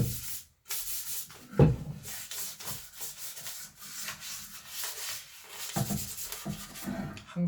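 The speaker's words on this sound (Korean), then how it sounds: "자, 이렇게 해서 두 번째 사포 줄기까지 끝났습니다." Sandpaper rubbed back and forth over a solid-wood cutting board during a second sanding pass, steady abrasive scratching strokes with brief pauses, close and alone.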